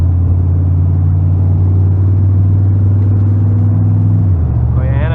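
A 1993 GMC Sierra pickup truck with a swapped 350 engine and manual shifting is driven on a road trip, its engine rumbling loud and steady from inside the cab, with the pitch dropping near the end as it shifts.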